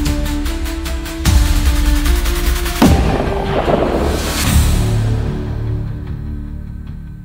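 AR-15 in 6.5 Grendel firing a 129 grain Nosler AccuBond round into ballistic gel outdoors: loud sharp reports with ringing echoes rolling off, followed by a long decaying tail fading to quiet.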